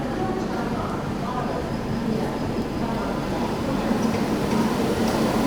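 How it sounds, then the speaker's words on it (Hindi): The Gondwana Superfast Express, hauled by a WAP-7 locomotive, pulls in with a loud, steady, broadband rumble that swells slightly toward the end, heard nearby and continuously. "ये आती हुई सामने से वेब 7 के साथ गोंडवाना सुपरफास्ट एक्सप्रेस"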